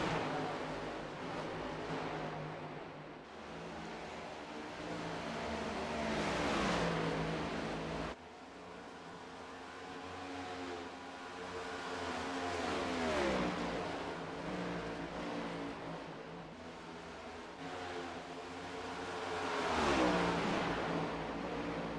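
Simulated NASCAR Next Gen race cars lapping Texas Motor Speedway in iRacing, a steady roar of engines rising and falling as cars pass in a pack, with revving swells and no talk.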